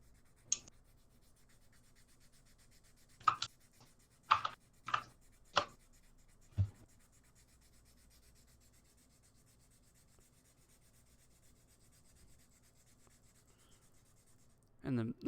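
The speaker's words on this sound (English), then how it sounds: "Yeah, Kia, how's the sanding sound now?" Several short, scratchy bursts of sanding on a wooden guitar body, spaced irregularly between quiet pauses, then one more rub near the end.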